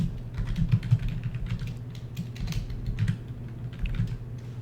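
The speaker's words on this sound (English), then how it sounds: "So let's go ahead and type that in." Rapid clicking of a computer keyboard as a message is typed in, a close, steady patter of keystrokes with brief pauses and no talking.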